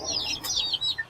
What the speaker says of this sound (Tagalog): Humahapon na sila, oh. Yung mga manok.